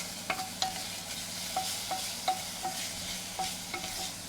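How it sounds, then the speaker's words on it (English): Beef searing in a pan for Guinness stew, a steady soft sizzle with repeated light scraping and stirring clicks, close and fairly quiet. "I don't want to sear it too much."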